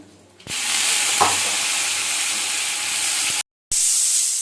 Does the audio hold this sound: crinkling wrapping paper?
no